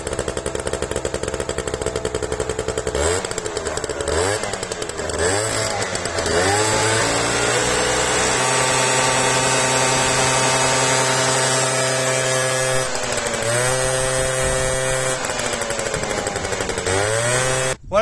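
A small scooter engine, just repaired, revs up loudly and buzzes for a long stretch. Its pitch rises and falls through repeated throttle changes before it settles into a steady high idle, close by and with no talking.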